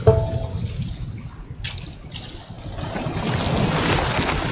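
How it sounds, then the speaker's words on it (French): A big waterfall in the video game Lonely Mountains: Downhill gives off a steady, broad rushing roar that swells and grows fuller toward the end, with no voices. "C'est la grosse cascade ça qu'on entend, non?"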